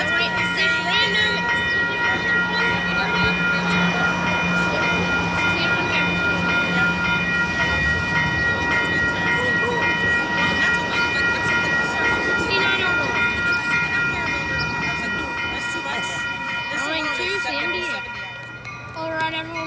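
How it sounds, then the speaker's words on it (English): An Amtrak train pulls into San Juan Capistrano station, with a loud steady rumble and sustained tonal horn-like ringing throughout, fading slightly near the end. "we have Amtrak 765 coming into San Juan Capistrano"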